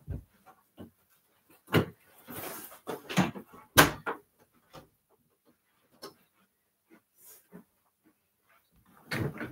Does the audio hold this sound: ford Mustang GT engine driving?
no